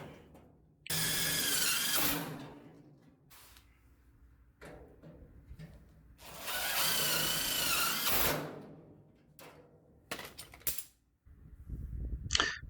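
A power drill drives a few screws into a sheet-metal panel during a 1962 Chevrolet Impala restoration, with two long whirring bursts and several short ones, close and loud, separated by quiet pauses and faint shop clatter.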